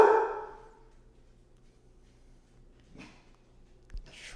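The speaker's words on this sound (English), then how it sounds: "What are you barking at," A dog gives one loud, close bark right at the start, then the room falls quiet apart from a few soft knocks and a faint low hum.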